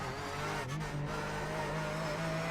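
Porsche 911 GT3 Cup race car in the iRacing sim, a steady engine drone with a thin gearbox whine running on top, loud and continuous with a brief dip in pitch early on.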